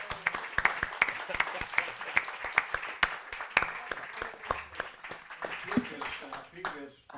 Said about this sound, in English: I think we have a round of applause.